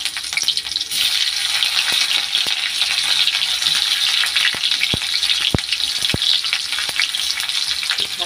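Onions sizzling in a frying pan with nigella seeds and boiled green banana, a steady loud crackle with scattered sharp pops and occasional stirring scrapes throughout.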